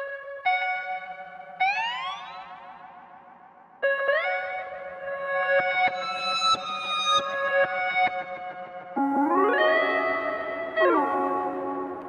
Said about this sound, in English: They also have reverse, halftime, and glide effects that you can access right on the front page.